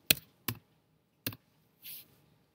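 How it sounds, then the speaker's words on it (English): A few isolated keystrokes on a computer keyboard while typing in ArchiCAD drafting software: three sharp, close taps spaced out, then a brief soft hiss, all faint, with no speech. "And if we type in"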